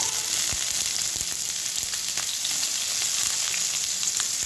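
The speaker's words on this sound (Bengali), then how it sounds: "আমি এটা ততক্ষণ পর্যন্তই ভেজে নেব যতক্ষণ এতে একটা লালচে রং ধরে" Cauliflower, carrot and beans sizzle and fry steadily in an oil-filled pan, a close, even crackle that continues throughout with occasional sharper pops.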